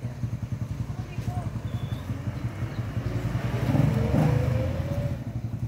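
A carburetor-fed Raider 150 motorcycle idles with a close, steady thumping putter, then gives a short rev that swells and falls back to idle.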